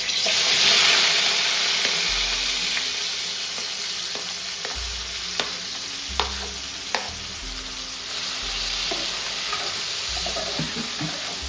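Pineapple pieces fry in hot ghee on a low gas flame, giving a continuous bright sizzle and crackle with a few sharp pops and spatters, close and loud, with no talking.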